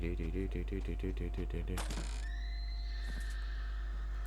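A short, tuned neigh-like horse whinny from a game effect in Tiny Tina's Wonderlands, followed by a sharp chime and rising electronic tones, with a low constant hum underneath.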